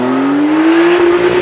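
Porsche Carrera T with a 360 hp flat-six and standard sports exhaust, revving with a steadily rising engine note, loud and close, no talking.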